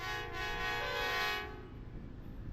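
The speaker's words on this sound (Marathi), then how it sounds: "यांनी कॅमेरा पाहिला की लगेच हॉर्न चालू" A train horn blares steadily for over a second, then cuts off, leaving a low rumbling of the moving train.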